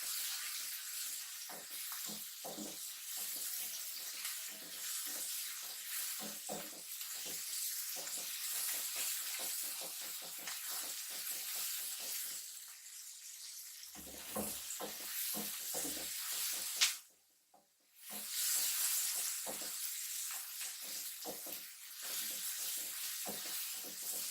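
Vermicelli roasting in a pan for namkeen seviyan gives a soft, steady hiss and sizzle with light crackles and stirring ticks, fairly faint and close, with a brief quiet gap near the end.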